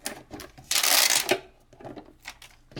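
Clear tape peeled off the glass protective housing of a GoPro Hero 3 Black Edition during unboxing, giving one loud harsh ripping burst of about half a second between softer handling rustles.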